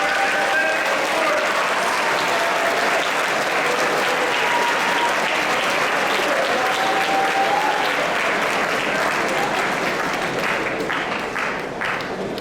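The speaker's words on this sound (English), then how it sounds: "big round of applause for the first section of our" Sustained audience applause at a grades 9-12 school awards ceremony, a steady wash of many hands clapping from a large crowd, even and continuous throughout, fading slightly at the end.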